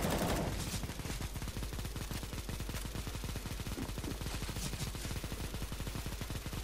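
Rapid automatic gunfire in the video game CS:GO, a long continuous burst of shots firing in quick succession, faint and steady with no talking.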